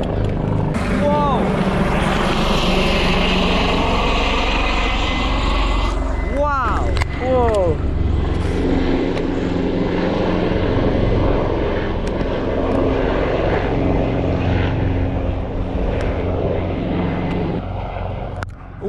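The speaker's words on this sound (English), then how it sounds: "Archie, it's mountain rescue. The chopper. Right above us." A mountain rescue helicopter passes low overhead in Glen Rosa on Arran, a loud, close rotor and engine roar with a sweeping pitch shift that stays strong before easing slightly, while hikers exclaim underneath.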